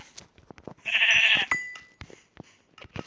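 A single loud, wavering sheep bleat from nearby lasting about half a second, surrounded by scattered clicks and thumps.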